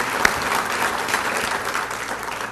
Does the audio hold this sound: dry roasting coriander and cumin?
no